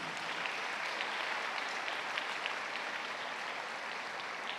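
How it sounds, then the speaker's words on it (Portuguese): A church congregation bursts into sustained applause, dense and even clapping that fills the room for several seconds with no speech over it. "Dê uma salva de palmas a Jesus"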